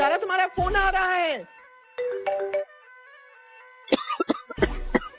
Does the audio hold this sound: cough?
yes